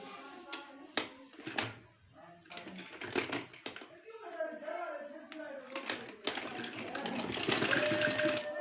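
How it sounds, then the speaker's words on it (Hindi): A sewing machine stitches 1.5 to 2 inch fabric strips onto a cutwork trouser and sleeve design, running in short bursts with rattling clicks and pauses between runs, then a longer steady stretch at the end. "रखते ही आप इसको स्टिचिंग कर लें"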